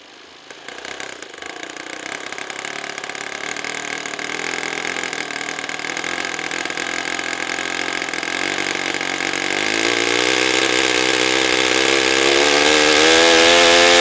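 A small RC model engine catches almost at once and runs steadily, a loud, buzzy mid-pitched drone that climbs gradually in speed and intensity over the whole stretch, with no voices.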